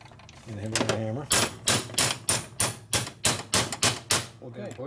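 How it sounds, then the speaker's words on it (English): Hammer blows knocking a bushing out on a 1941 74ci Knucklehead bobber chopper, about ten sharp metallic strikes in a steady rhythm, loud and close, following a short stretch of talk. "And hit it with a hammer."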